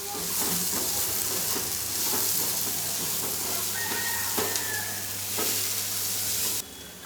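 Onions and spices fry in a pan for a rustic village-style jawla (dried shrimp) dish, giving a steady, close sizzle with soft stirring scrapes throughout, with no talking.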